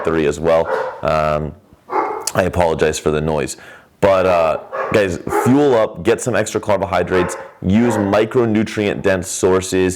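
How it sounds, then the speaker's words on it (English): Excited dogs yipping and barking in brief bursts, partly masked beneath someone talking steadily and loudly nearby. "As you can see, guys, my dogs are fired up."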